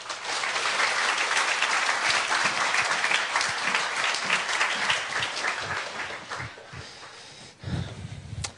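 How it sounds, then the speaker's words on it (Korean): A church congregation claps loudly to welcome a missionary speaker, dense sustained applause that thins out and fades toward the end, leaving a few scattered sounds. "나오실 때 우리 힘찬 박수로 우리 맞이하겠습니다."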